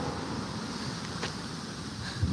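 Wind buffets steadily on a blustery day outdoors, a constant broadband rush with low rumble against the microphone and no clear breaks.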